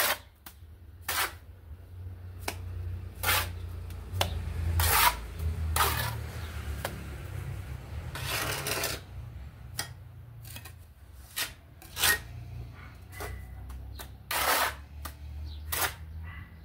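Plaster render being applied to a wall with a trowel, a sand-based mortar mix, heard as repeated sharp scraping slaps and rasping strokes at irregular intervals over a low background hum.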